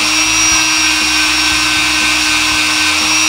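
A power tool whirs steadily while polishing a stainless, uncoated handgun feed ramp with rouge, its motor tone loud and continuous with slight speed wavers throughout.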